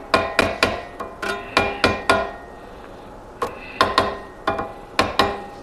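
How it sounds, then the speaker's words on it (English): A hammer taps sheet metal down to a fold line while making the base for a stationary engine, with about fifteen sharp, close metallic blows in uneven clusters and short pauses between them. "Now I'm just going to tap this down till I'm on my"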